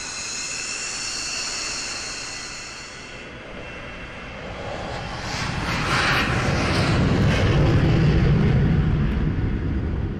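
A Royal Bahraini Air Force F-16 Block 40 fighter jet at Isa Air Base roars past. It starts as a distant whine, then swells into a loud, broad rumbling jet noise that holds strong toward the end.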